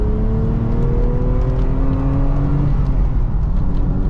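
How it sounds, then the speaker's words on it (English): A 1989 Vauxhall Carlton GSI 3000 24V with its six-cylinder engine revs loudly and close up, a smooth rising and falling whir that holds strong and continuous with no talking. "You cannot beat a 6-cylinder car"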